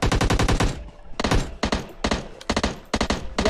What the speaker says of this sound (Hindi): यार, ये सिंगल शॉट क्यों हो गई गन?